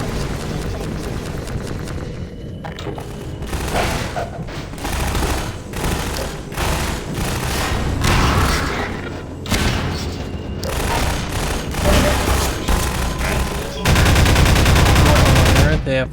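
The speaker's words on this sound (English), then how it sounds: "They have flashbangs?" Flashbangs and gunfire in a video game: sustained volleys of shots and booming blasts packed close together, loud throughout, with a harsher, denser burst near the end.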